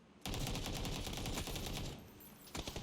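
Rapid automatic gunfire rattles through a PUBG match in a dense, loud, continuous burst of many shots that fades out partway, followed by a short final flurry of shots.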